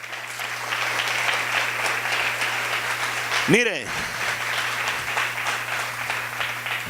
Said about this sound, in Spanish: Denle fuerte ese aplauso al Señor.